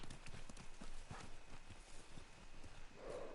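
Horse hooves clip-clop steadily in the video game Ghost of Tsushima, a walking gait of moderate, even beats with faint ambient sound and a brief tonal blip near the end.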